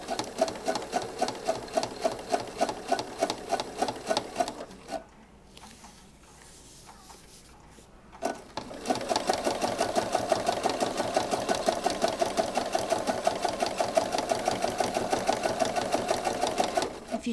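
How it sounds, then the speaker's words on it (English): A sewing machine runs a straight stitch through laminated fabric with rapid, even needle clatter. It stops for a few seconds, then resumes at a steady pace. "Alright, so I'm going to start sewing. This is just a straight stitch."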